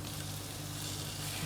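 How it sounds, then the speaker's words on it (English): Chinese chive pockets fry at medium heat in a lightly oiled non-stick pan, giving a steady, close sizzle with no voices. "Fry each side at medium heat, 4 minutes each side."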